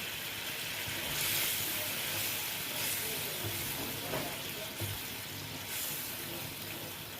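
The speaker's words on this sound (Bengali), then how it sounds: "দেখুন মশলাটা ফুটে উঠেছে" Spice paste for Bengali katla fish madhukhira bubbling and sizzling in a pan, a soft continuous frying hiss with faint stirring, fairly quiet and without talk.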